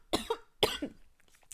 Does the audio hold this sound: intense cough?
yes